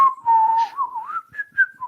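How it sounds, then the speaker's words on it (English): A person whistles a short wavering tune alone while leaving, during a tabletop role-playing game session, the notes sliding up and down in a clear, close melody. "Make sure you're whistling while you leave."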